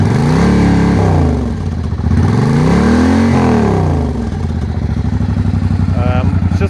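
A 2005 Suzuki VL1500 motorcycle engine revs loudly up and down in swelling sweeps, then settles into a steady, throbbing idle with a faint clatter near the end.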